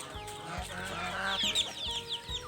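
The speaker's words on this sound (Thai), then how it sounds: "เป็ดไก่ก็อยากกินข้าวกินน้ำท่านผู้ชมเลย" Ducks and chickens at a rural farm clucking and squawking in a busy cluster of repeated calls, fairly close, with no voices.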